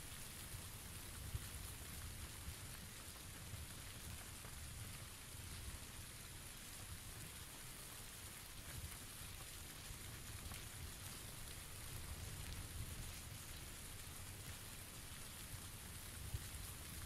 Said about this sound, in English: Sneak mode because it's raining.